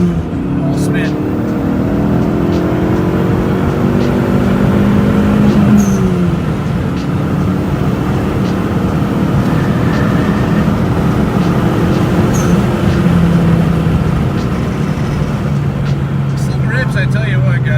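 A Dodge SRT4 on bald tires accelerates hard in second gear over slightly wet ground, its engine drone loud, close and continuous, with a shifting pitch as the wheels spin.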